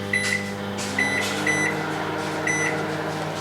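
A microwave oven runs for a preheat cycle, a steady low mechanical hum that holds throughout, with short high electronic beep-like tones recurring several times over it.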